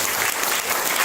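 An audience bursts into dense, sustained applause, with many hands clapping at once in a steady, loud wash of sound.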